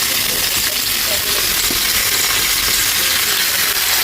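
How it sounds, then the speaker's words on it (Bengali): Ginger garlic paste sizzles in hot oil as a rui fish curry begins, a loud, dense, continuous hiss with faint crackle throughout and no clear breaks. "আদা রসুন বাটা দেবো।"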